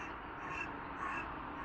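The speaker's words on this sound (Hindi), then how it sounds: "अभी तो कौवा सुनाई दे रहा है मुझे" A crow caws twice in the early morning, heard from a hotel balcony in Frankfurt. The two fairly distant calls come about half a second apart over a soft, steady background hum.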